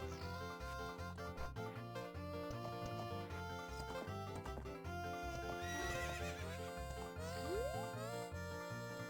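A horse neighs and whinnies with clip-clopping hooves in Zelda: Ocarina of Time, the corral race with Epona, set over a steady game music background for several seconds.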